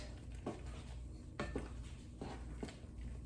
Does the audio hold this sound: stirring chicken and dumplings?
yes